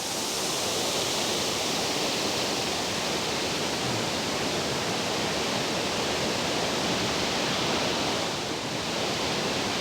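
Powerful, unbroken roar of Middle Creek Falls heard close up, dense and steady throughout with no voices.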